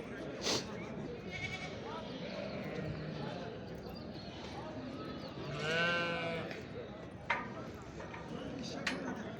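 Lambs bleat intermittently amid a busy livestock market in Çorum, Turkey, with people talking and animal shuffling throughout; one louder bleat stands out midway.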